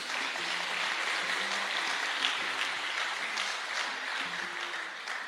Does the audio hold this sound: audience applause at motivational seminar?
yes